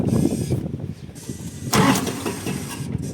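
A 35-horsepower DTZ 354U tractor engine cranks and catches with a rough, close rumble, a louder surge near the middle, then runs on unevenly for a moment.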